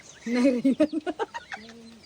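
Chirps and clucking calls from a chick, a quick run of short peeps followed by a longer drawn-out note, close by.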